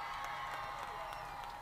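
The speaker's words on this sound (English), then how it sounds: "You can also play around with these buttons where you can do like an applause" Canned applause sound effect from a TriviaMaker wheel game button, a steady wash of crowd clapping and cheering held at an even, moderate level throughout.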